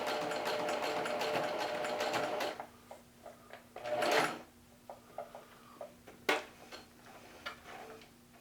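Sewing machine stitching a pocket: a rapid, steady stitching run for about two and a half seconds, then short bursts and single clicks as the fabric is adjusted, with one more brief run in between.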